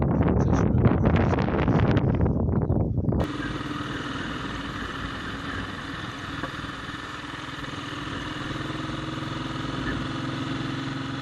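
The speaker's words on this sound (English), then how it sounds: "will you be able to hear me above the noise of the wind" Gusty wind buffets the microphone for about three seconds at the seaboard village of Shandwick. A steady idling rumble from a BSA C15 motorcycle then continues on its own.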